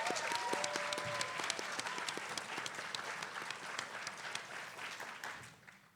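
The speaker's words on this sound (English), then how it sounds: "Round of applause." Applause from an audience at a FameLab Academy science final as Jamie from Gloucester Academy comes up, a steady wash of many hands with a brief tonal sound early on, gradually fading at the end.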